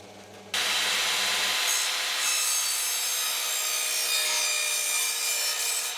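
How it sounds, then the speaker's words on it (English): A harsh, steady abrasive rasp of cutting out foam blocks for a wind turbine airfoil, loud and continuous after a short drill hum at the start. "Now I just need to drill those out and cut them out."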